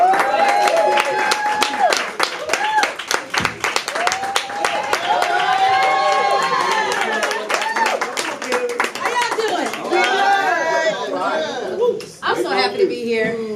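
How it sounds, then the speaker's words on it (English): A live audience snaps and claps to welcome a performer to the stage, a continuous patter of crisp snaps and hand claps running beneath a speaking voice for the whole stretch. "as we begin to build energy by snapping and clapping and just giving her undivided attention"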